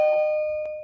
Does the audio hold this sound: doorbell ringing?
yes